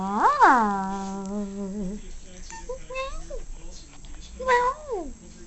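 A cat meows several times, close and clear, with a long rising and falling cry at the start and shorter meows later, while a voice speaks softly in between.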